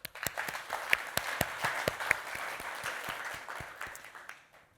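A summit audience applauds to thank Julian, with a steady wash of clapping and sharp individual claps standing out, close and lively before tapering off at the end.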